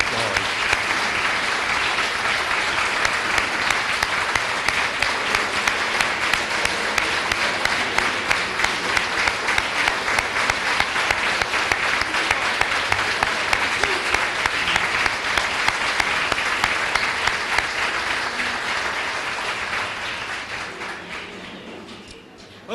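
An audience at an American Legion baseball awards ceremony claps steadily for about twenty seconds, a dense even patter that gradually thins and fades out at the end.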